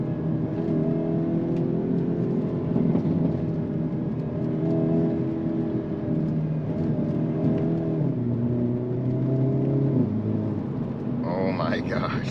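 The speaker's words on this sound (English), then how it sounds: "Wow, those downshifts." A 2022 Hyundai Elantra N engine revs through downshifts, with a steady mid-pitched drone stepping up and down in pitch as gears change, heard from inside the cabin with a brief higher whine near the end.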